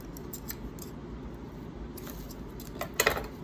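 Scissors trimming thread on a pine needle basket, with a faint rustle of handling followed by a couple of small metallic snips near the end, close and quiet.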